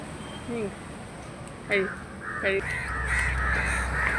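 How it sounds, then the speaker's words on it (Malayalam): Several crows caw in short, harsh bursts at a moderate distance, with a steady low hum of background noise rising toward the end. "കാക്ക എന്താ എത്ര കാക്കകൾ വന്നിരിക്കുന്നേ"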